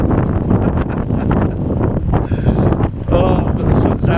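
Strong wind buffeting the microphone at a windswept Shetland Islands campsite, a loud continuous roar with gusty surges and rustling, heard alone without talk.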